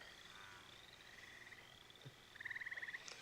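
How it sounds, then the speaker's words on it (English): Frogs croak faintly in a quiet film scene, with a soft, rapid pulsing train of croaks near the end and a distant chorus beneath it. "Do you hear the frogs they're singing?"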